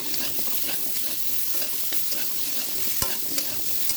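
Chopped guava sprinkled with salt roasts in a pan over a gas flame, giving a steady close sizzle with scraping stir strokes and a sharp clink near the end, no voices.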